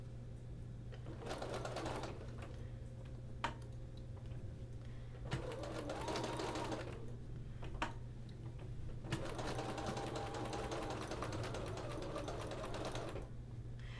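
A sewing machine machine-quilting a quilt runs in several bursts of steady, rapid stitching separated by brief pauses, close and clear over a constant low hum, with no talking.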